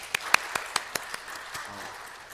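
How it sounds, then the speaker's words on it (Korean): Members of a Korean church congregation at a Sunday afternoon service start clapping for the evangelism team, a handful of sharp distinct claps in an even rhythm that then fades into a soft, scattered patter. "우리 전도대원들 열심히 하고 계시는데 우리 감사와 격려의 박수를 드리도록 하겠습니다."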